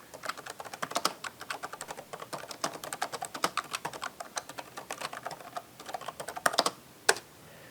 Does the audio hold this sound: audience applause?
no